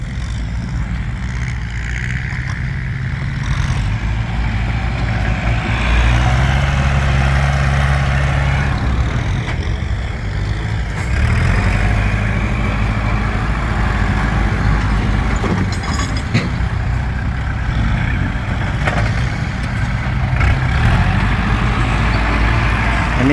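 Tractor engine running steadily at a work site among many vehicles, a loud continuous diesel rumble with low throbbing and occasional rises in revs, alone without talk.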